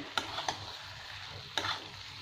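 Spiced fried masala and potatoes for a Bengali-style vegetarian yogurt aloo dum are stirred in a pan with the gas turned off. A few sharp scraping strokes come close up over a soft background, with no talk.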